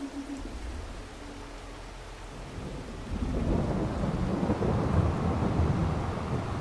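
Rain and a low rolling rumble of thunder fill Farming Simulator 22 on the Alma, Missouri map, the downpour swelling louder partway through into a dense, steady wash with no voices.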